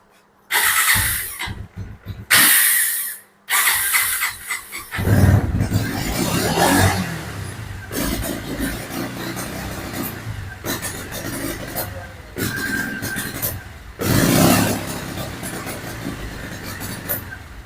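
A Bajaj Avenger 160 BS6 motorcycle with a misfiring fault is cranked in short bursts, then catches and runs unevenly, its loudness rising and falling with uneven throttle blips.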